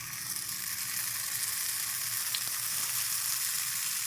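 Batter sizzles in an oiled paddu pan, a steady bright frying hiss that holds evenly throughout with no talk.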